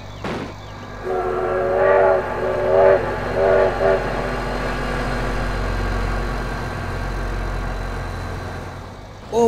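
A train horn blares in the BeamNG Drive driving game, several swelling blasts sounding over a steady engine rumble and rail noise that carries through the whole stretch.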